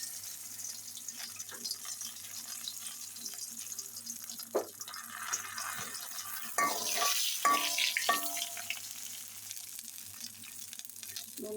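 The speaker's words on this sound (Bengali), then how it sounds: "গোটা জিরে দিয়ে দিচ্ছি।" Whole cumin seeds sizzle quietly in hot oil, with soft frying crackle, a few stirring scrapes and a louder burst of sizzling partway through.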